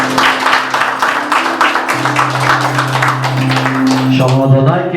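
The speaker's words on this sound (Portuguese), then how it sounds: "Recebemos o pastor com palmas para Jesus." Church congregation claps for the pastor, a steady patter of many hands in rhythm, fairly loud and sustained, with a held organ-like tone underneath and a brief musical flourish near the end.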